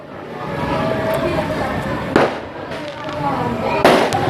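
Firecrackers go off in an outdoor crowd gathering, with two sharp close bangs standing out over a continuous crackle and hubbub of people talking.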